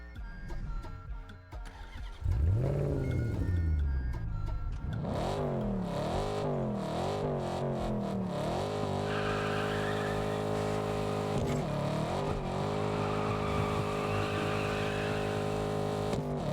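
An Aston Martin DB11 engine revs loudly in the racing game TDU Solar Crown, rising and falling through several strong sweeps, then settling into a steady, sustained roar.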